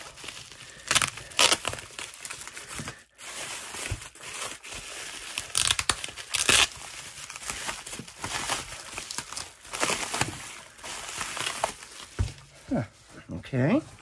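Taped lucky bag packaging is torn and crinkled open in loud, repeated rips and crunching plastic rustles, close up, while a person talks intermittently.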